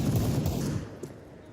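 Rapid automatic AK rifle fire in a CS:GO esports match, a dense loud burst of shots over the first second that thins and fades, with a brief sharp report near the end.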